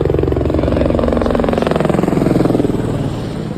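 Helicopter coming from Baltal along a mountain valley, a loud, steady rotor chop with a pulsing beat that runs throughout and eases slightly toward the end.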